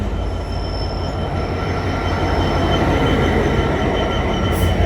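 A Class 66 diesel locomotive hauling a heavy loaded train rumbles past nearby at Peterborough, with a loud continuous roar of engine and wheels and a faint high metallic squeal.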